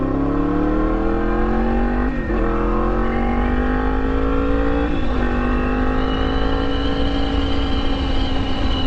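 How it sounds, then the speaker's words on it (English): Yamaha MT10 motorcycle fitted with an Austin Racing exhaust and a decibel killer, heard from the rider's position revving in long rising sweeps with brief dips between them, loud and continuous with no speech. "give you a hopefully high quality example of what this Austin Racing exhaust sounds like"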